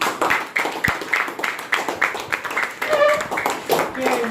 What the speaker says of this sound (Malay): Beri tepukan kepada Munifah